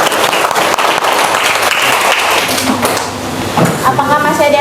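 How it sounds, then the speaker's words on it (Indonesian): Applause for a student group after their answer in a classroom presentation, a steady wash of clapping filling the room with talk mixed in. "Aplaus dulu buat Ella dan kelompok 2"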